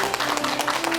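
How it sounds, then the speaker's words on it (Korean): Audience applause greets a speaker walking onto a lecture stage, a brief, steady wash of clapping over a faint constant hum. "큰 박수 부탁드립니다"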